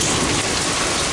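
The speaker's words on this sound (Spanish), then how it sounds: "Parece que está menguando la lluvia" Steady heavy rain falling, a dense unbroken hiss close by and loud, with no voices.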